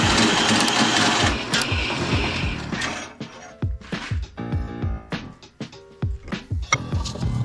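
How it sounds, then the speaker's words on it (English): A bandsaw cuts metal pieces for a Ford Econoline roof rack, giving a close, loud mechanical rattle with rapid repetitive clatter and intermittent tonal screeching as the blade bites into the stock. "So I'm getting these pieces cut out here on my bandsaw."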